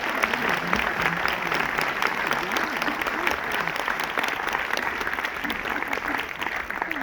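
Loud, sustained audience applause at the premiere screening of John Woo's film The Killer, dense clapping throughout with voices talking over it.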